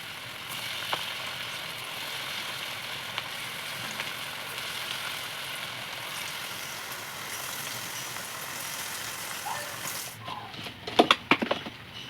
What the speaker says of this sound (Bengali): এইভাবে কিন্তু আমি সব পকোড়াগুলো ভেজে নেব।